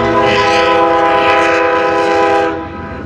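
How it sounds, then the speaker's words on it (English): A passenger train rolls past in a small Texas town, its loud steady roar layered with strong tonal horn-like harmonics for about two and a half seconds, then easing off as it moves away. "That looks like a passenger train."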